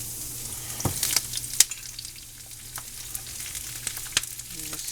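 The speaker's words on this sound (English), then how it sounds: "have a little bit of oil and it's smoking hot, so you might get splattered. And I have a half a head of cabbage cubed up" Cubed half head of cabbage hitting smoking hot oil in a pan, giving a soft, steady sizzle with a few sharp spatters and utensil clinks, fairly quiet and without speech.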